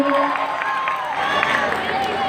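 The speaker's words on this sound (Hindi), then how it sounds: "मंच पर आते हुए हमारे बच्चे तालियों की गड़गड़ाहट से स्वागत करते हुए" Audience applause and cheering welcomes children onto the stage at a school prize-giving ceremony, a dense steady clatter of clapping with crowd noise throughout.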